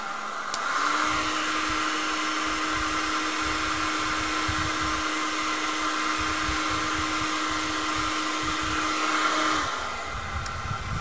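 A heat gun blows steadily on a Galaxy S4 screen to soften its adhesive, a constant loud rushing whir with a slight pitch shift as it switches up and back down, close and uninterrupted.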